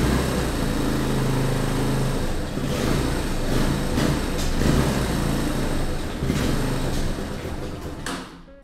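A 1998 Honda XLR 125 motorcycle engine runs loud and close, rough and unsteady as it fails to hold idle, its rumble dipping and stumbling before dying away at the end.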